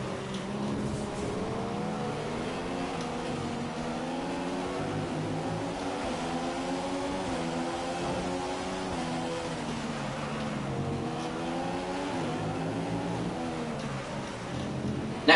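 F1 2015 race cars lapping the Russian Grand Prix: a continuous high engine whine that rises and falls through gear changes, steady and close throughout.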